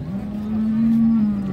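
A single low, drawn-out moo from a Murrah buffalo at a livestock market, close and fairly loud.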